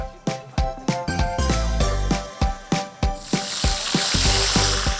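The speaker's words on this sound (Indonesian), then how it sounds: "menggoreng teri untuk taburan atas nasi liwetnya nanti" Rhythmic clanks of a utensil against a pan over crackling sizzle of anchovies frying in oil, with the frying hiss swelling louder toward the end.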